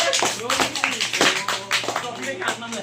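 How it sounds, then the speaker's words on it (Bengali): Loud applause from a small gathering at a prize distribution for chemistry students, claps dense and steady across the whole stretch, with a low hum underneath. "সবার তরফ থেকে একটা জোরে হাততালি সৌমিকের জন্য"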